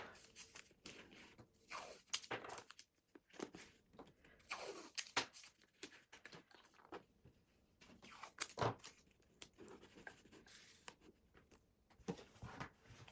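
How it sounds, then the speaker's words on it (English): Adhesive tape torn in short ripping bursts while fastening a battery pack inside a heart tree shadow box made with straws, with crinkling and handling noises between tears at close range, no voice. "I don't want the battery pack flopping around, so I'm just going to tape that here as well"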